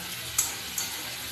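Chicken pieces frying in oil in a wok for chilli chicken, a steady close hiss and sizzle with two brief sharper crackles, no talk over it.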